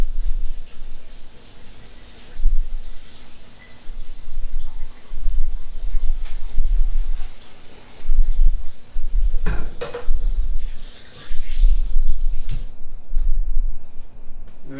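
Potatoes being rinsed under a running kitchen tap for potato leek soup, with steady splashing water, bursts of louder gushing and occasional clunks of the pot or bowl, loud and close throughout.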